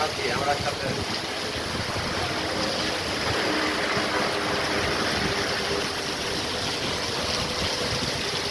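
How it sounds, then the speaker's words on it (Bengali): A waterfall pours during rain with a dense, unbroken rushing roar that fills the air at a constant loudness from start to finish. "অনেক সুন্দর এই ঝর্ণাটা।"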